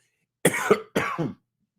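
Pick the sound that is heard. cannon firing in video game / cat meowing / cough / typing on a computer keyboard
cough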